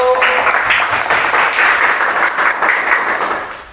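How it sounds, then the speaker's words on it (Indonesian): Schoolchildren in a classroom clap for a student group after its presentation, a brief burst of close, loud clapping that tapers off quickly. "Minta tepuk tangan untuk kelompok 1."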